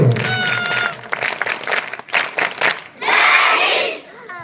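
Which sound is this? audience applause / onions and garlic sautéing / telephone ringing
audience applause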